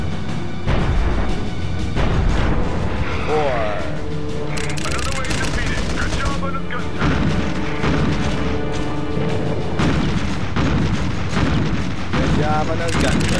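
Heavy gunfire from naval guns in the video game Pacific Gunner, a dense continuous barrage of booming shots and rattling bursts with background music and game sounds, while people talk throughout.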